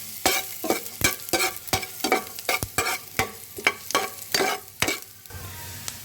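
Garlic frying in a cooking pot for pinakbet, with a loud hissing sizzle and a run of sharp, rhythmic scraping stirs and clanks close by, no voices.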